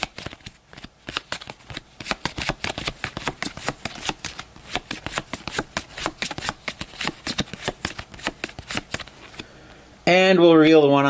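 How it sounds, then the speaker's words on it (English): A deck of game cards is shuffled in a quick run of crisp riffling flutters lasting about ten seconds, close and fairly loud, ending in a brief burst of voice. "So we'll shuffle these up."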